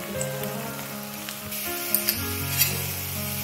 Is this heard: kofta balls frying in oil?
yes